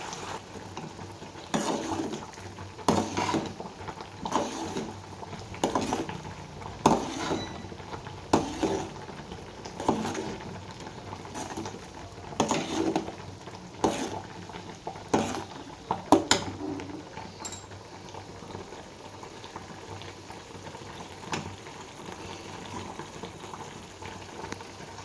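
Curry leaves and fenugreek frying in homemade ghee made from butter, a steady bubbling sizzle with irregular stirring scrapes and clicks throughout, close and moderately loud, with no talking.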